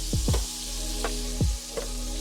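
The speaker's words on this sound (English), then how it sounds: "we're gonna go ahead and drop our steak back in" Wagyu steak dropped into foaming butter in a hot pan, giving a steady close sizzle and frying crackle with a few sharp bursts as it lands and settles; no talking.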